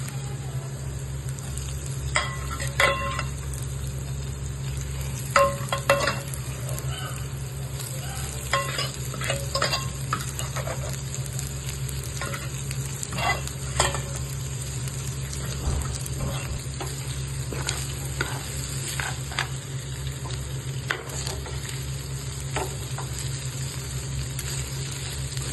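Prawns frying with golden-brown onions in a pan, a low steady sizzle broken by repeated clattering stirs and scrapes of a spoon at irregular intervals, nearby and without speech.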